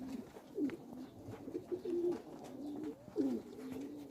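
Pigeons coo softly and repeatedly at close range, a nesting pair giving low throaty calls in an irregular rhythm over a faint background hum.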